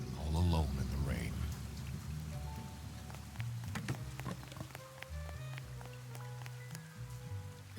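Steady rain falls in the Duck Detective video game, a continuous wash of drops that runs under game music and scattered tones, with a louder burst at the start.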